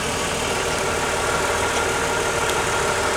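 A 2003 BMW E46 330i sits in reverse gear with the brakes held, its engine running steadily close by and a faint rattle mixed into the continuous drone.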